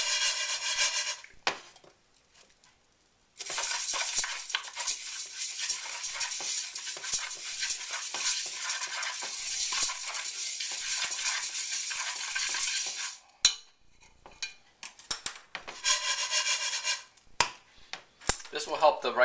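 Rice being stirred and toasted in a hot pan for turkey jook, a dry scraping, sizzling rustle that runs steadily for about ten seconds, then breaks into shorter scrapes and shakes, close and fairly loud with no talk.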